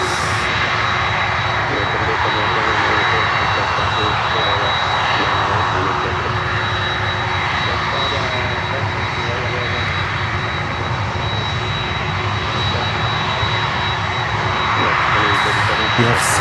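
A jet airliner powered by GE CF6 engines rumbles steadily and loudly near a runway, a sustained broad engine drone with a faint high whine running throughout, while a voice talks underneath.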